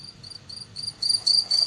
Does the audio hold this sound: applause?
no